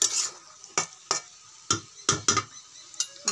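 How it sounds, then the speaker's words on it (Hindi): Potato and cabbage masala frying in a pan, stirred with about eight distinct scraping strokes over a soft background sizzle, close by and with no speech. "अब बीच बीच में चलाते हैं"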